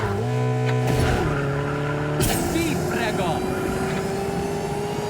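A car in the racing video game Jected - Rivals drives with a steady engine drone that shifts pitch, under game music and effects, with a sharp burst and squeal-like sweeps partway through.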